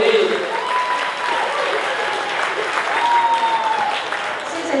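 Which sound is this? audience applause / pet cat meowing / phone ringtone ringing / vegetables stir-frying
audience applause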